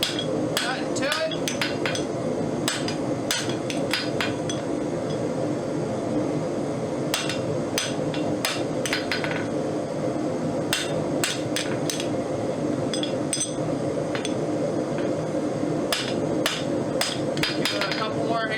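Repeated sharp hammer blows ring out as a copper rose bloom is forged, striking in irregular bursts of several quick strikes with short pauses between, close and loud over steady workshop background noise.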